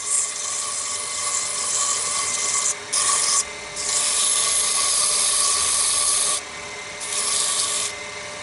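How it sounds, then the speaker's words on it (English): Sandpaper rubs against a wooden chess rook spinning on a lathe, producing a close, harsh hiss in sustained passes broken by several brief pauses. "sand this down"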